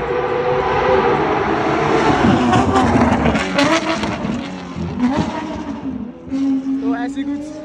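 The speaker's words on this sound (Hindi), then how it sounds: "देखो गाड़ी आ रही है कोई यहाँ से" A car drives past on a road in India, its engine and tyre noise swelling and then fading over several seconds, loud and near, while someone talks over it.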